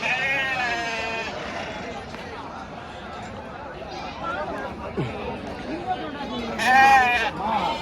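Large sheep bleat repeatedly, near and loud, at a sheep market among a crowd of people chattering in the background.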